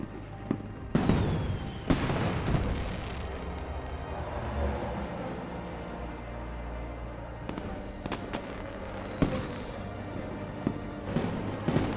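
Fireworks burst over the 24 Hours of Le Mans circuit, with sharp booms and crackles at irregular intervals, some near and loud, others fainter, over a steady roar of background noise.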